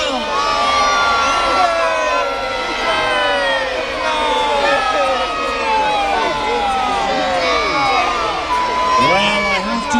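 Crowd at a Roman gladiator show in Chester shouting and cheering together, many voices including children, loud and sustained throughout with rising whoops near the end.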